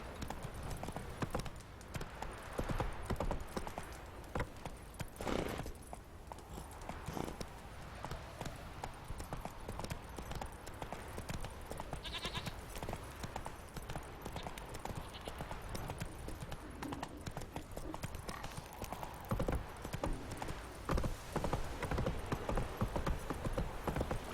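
Roach, the horse from The Witcher 3, gallops with a steady clip-clop of hooves throughout, running under a wash of game ambience and occasional talk.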